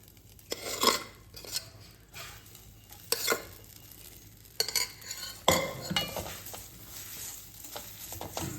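Cooked rice is stirred into a lemon rice seasoning in a pan. The spoon scrapes and clinks in irregular bursts over a faint sizzle, close up and with no talking.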